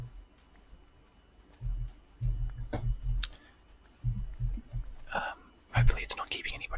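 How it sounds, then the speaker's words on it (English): A computer mouse clicks in short scattered bursts during Minecraft play, faint and close, under quiet whispered talk. "I don't know if people particularly like all the sound of the clicking"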